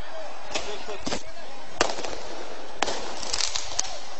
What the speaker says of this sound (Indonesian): Bahkan dari pihak warga sendiri telah melempar petasan ke arah Satpol PP